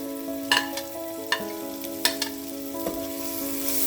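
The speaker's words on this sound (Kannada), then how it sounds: "ಈರುಳ್ಳಿನೂ ರೋಸ್ಟ್ ಮಾಡ್ಕೊಳ್ಳೋಣ" Onions roasting in oil in a pan for vegetarian red pasta, a steady soft sizzle broken by a few sharp scraping stirs of a spoon against the pan, close and clear with no talking.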